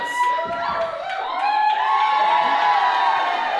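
Crowd cheering at a women's wrestling match in a video game, rising shouts and whoops that build into a loud sustained roar with voices mixed through the noise.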